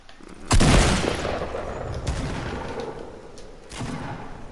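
In a Fortnite match, another team fires guns, heard as a loud burst of sharp cracks followed by a rolling rumble, then a few more distant shots spaced out over several seconds.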